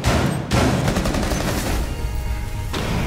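Hip-fired gunfire from Rainbow Six Siege comes in a dense, loud volley that runs almost continuously, with a brief gap early on, close and aggressive with no talk over it.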